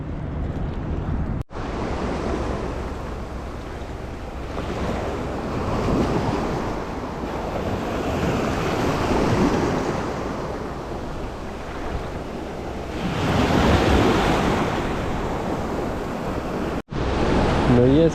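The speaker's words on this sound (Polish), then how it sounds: "Fale nie za duże." Sea waves washing onto a shore, a loud continuous roar of surf swelling and receding with wind buffeting the microphone, no voices over it.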